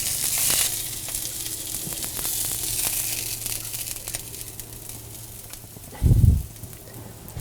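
Féra fish fillets fry in a pan with a steady close sizzle and crackle, followed near the end by a brief louder low thump and scrape of the pan or utensil.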